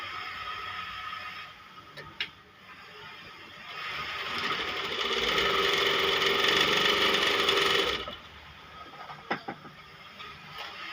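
A Kansai special sewing machine running over fabric, a quiet mechanical whir rising to a louder sustained run of stitching for several seconds, then dropping back to soft clicks and handling noise.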